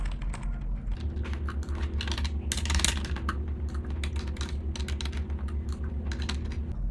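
Payment card details being typed on a computer keyboard, a steady run of quick close key clicks with a brief louder burst midway, alone over a low hum.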